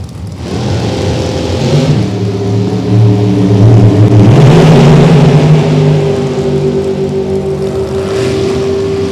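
Drag racing cars at time trials rev loudly and steadily, a deep engine drone rising in pitch as one accelerates, near and continuous for several seconds.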